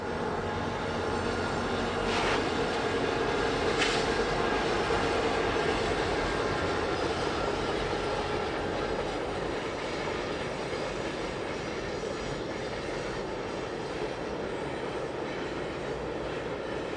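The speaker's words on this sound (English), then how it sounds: "I tied the train as it reached the Ohio side of the C&O Railroad Bridge." A CSX freight train crosses the C&O Railroad Bridge toward the Ohio side, producing a steady, loud, unbroken rumble and rattle of rail cars that fills the whole stretch without any talk.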